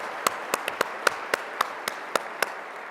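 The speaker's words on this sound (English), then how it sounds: "let's give them another round of applause" People at a summit clap to thank the event sponsors. Roughly ten crisp, faint claps come at a slow, even pace, sounding more like a few scattered hands than a full crowd, with no talk over them.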